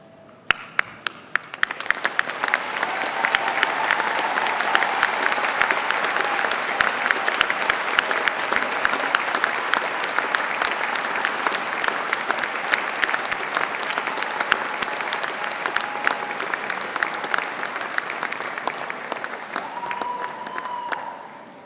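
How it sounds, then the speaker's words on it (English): Standing graduates at a university graduation ceremony applaud their families, a loud, sustained wall of clapping from a large hall that builds quickly and carries on for about twenty seconds before easing off. "join me in giving them a well-deserved round of applause"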